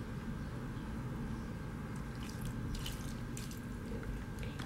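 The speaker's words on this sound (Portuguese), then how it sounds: "Então eu vou colocar mais um pouco de água." Water is poured into couscous dough for cheese couscous in a kitchen, a quiet trickle with light drips and splashes that grow more distinct partway through.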